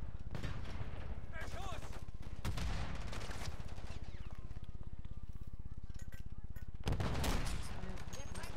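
Automatic gunfire rattles in Call of Duty Modern Warfare III: a steady, rapid stream of shots runs throughout, with louder bursts near the start and end, heard under a voice talking.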